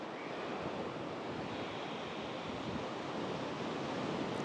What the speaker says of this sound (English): that's a wind here